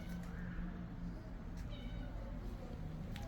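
Small cats give faint, brief meows in a quiet village lane in Sinagra, Sicily, lined with olive plants and a nativity-scene display, barely rising above soft outdoor ambience.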